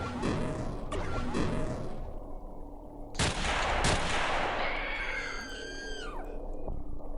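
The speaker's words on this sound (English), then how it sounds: "Bomb." A bomb goes off in the video game XPiratez: a sharp broadband blast lands partway through, following earlier impact-like bangs, then gives way to a rumbling tail with ringing tonal sweeps, all loud and close.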